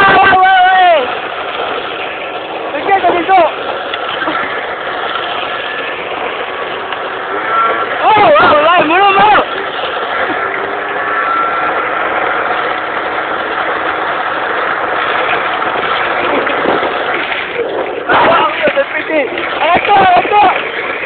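A small tractor engine drones steadily through a race against a scooter, with a mid-pitched engine sound and brief rising revs, while people shout and talk over it.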